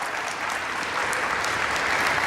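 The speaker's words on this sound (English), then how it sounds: "Can we have a loud round of applause?" Applause from delegates at the COP26 climate summit, a continuous, even roar of many hands clapping throughout.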